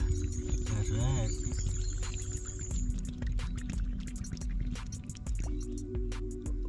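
Fresh spring water gurgles and bubbles steadily into a bottle held low in a running spring, with drips and splashes over a continuous watery rush.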